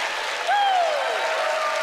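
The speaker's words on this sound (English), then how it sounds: "Do the applause here, Debbie." An audience applauds at a magic-competition TV show taping, a steady wash of clapping with a short rising whistle cutting through near the start.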